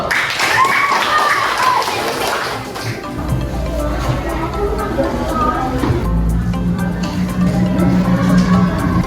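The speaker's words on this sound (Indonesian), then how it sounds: "Tepuk tangan dulu." Classroom applause, a burst of students clapping together at close range, mixed with voices and tapping, fading into room chatter and light knocks.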